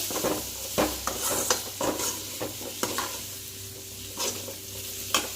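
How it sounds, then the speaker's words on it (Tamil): A spoon stirs dried fish curry with beans in a pan, making intermittent scraping strokes over a low, steady sizzle. The sound is fairly quiet and close. "சேர்த்து நல்லா கிண்டி விட்டுக்கலாம்"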